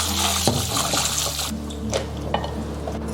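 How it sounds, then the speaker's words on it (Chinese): Snow peas being rinsed in water, with a steady broadband splash and trickle of running liquid, a few clinks against a bowl, loud and close for a few seconds. "再准备适量的荷兰豆清洗一下"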